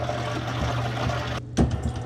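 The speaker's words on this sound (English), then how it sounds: "your filter should stop making these hissing sounds because all the air is gone" A refrigerator water filter hissing steadily as water and trapped air push through it, broken by a brief gap and then a sputtering gush.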